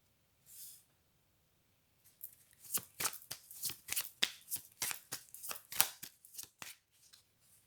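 A deck of cards is shuffled up close, a rapid run of crisp riffling flutters and slaps lasting several seconds after a brief soft rustle, with no talking.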